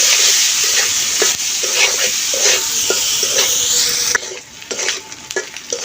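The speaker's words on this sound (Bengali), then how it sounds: "এখন দিয়ে দিচ্ছি পেঁয়াজ কুচি আর কাঁচামরিচ" Chopped onions and green chilies fry loudly in a pan over a village wood-fired stove, a steady close sizzle with repeated stirring scrapes, the hiss dropping away near the end.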